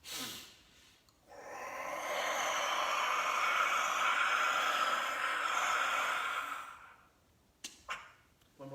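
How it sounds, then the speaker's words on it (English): During a guided breathing exercise, a long, deep exhale rushes out for about five seconds, steady and close, after a short quiet breath. A couple of faint clicks follow. "inhale a second time, supercharge your body, and then exhale, squeeze the accordion"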